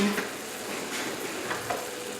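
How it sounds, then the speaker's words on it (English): Thick pork chops sear in a hot pan with a steady, close sizzle and occasional brief crackles and scrapes throughout. "color both sides of these pork chops"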